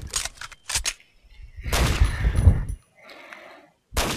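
Gunfire from the Combat Arms shooter game: a few loud, sharp broadband bursts, a longer blast of rapid fire in the middle, then a final shot, with quiet gaps between them and no talking.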